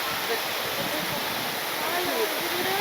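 Keralamkundu waterfall near Coimbatore, a continuous loud rushing roar of falling water, steady and unbroken throughout, with faint voices under the noise.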